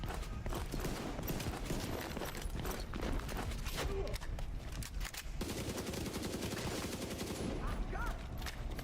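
Pistol shots ring out in rapid, dense bursts during a shooting video game, loud and continuous over a busy mix of game effects, with a voice talking faintly underneath.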